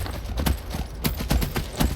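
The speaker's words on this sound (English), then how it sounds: "I do have a horse, and you can climb up anything with a horse in Skyrim" Horse hooves clip-clopping in the game Skyrim, a steady run of soft, evenly spaced footfalls at close range with no talking.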